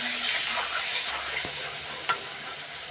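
Raw banana being stirred in a pan with ground spices, chilli paste, salt, turmeric and ginger paste, steady low frying sizzle with scraping spoon strokes and a couple of sharper knocks against the pan.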